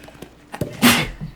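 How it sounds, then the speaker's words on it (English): A single sudden sneeze bursts out close to the microphone, sharp and breathy, preceded by a short inhaled buildup and a few soft knocks, while a Pikmin 4 gameplay session goes on. "I feel like I'm gonna sneeze"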